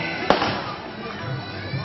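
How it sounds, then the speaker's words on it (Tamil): A single sharp firecracker bang cracks out early at a karate award ceremony, then fades into a steady murmur of crowd noise. "அதிர்கின்ற பட்டாசு சத்தத்திற்கு மத்தியிலே"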